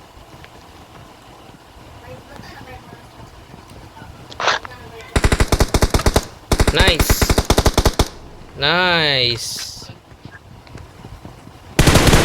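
A special gun fires in a video game as several rapid, loud automatic bursts, mixed with a warbling sweep and other game effects, while players talk over the action.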